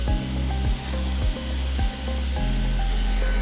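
Commercial roofing hot-air welding machine pulled along a seam while a roller presses it, giving a steady loud blowing roar with a few low thumps and scrapes as the tool and roller shift.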